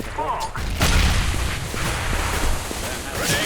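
A grenade detonates in a professional CS:GO match at the Dreamhack Winter 2014 tournament (Cloud9 vs Bravado), a single heavy boom that gives way to a rumbling, crackling in-game din with light clicks.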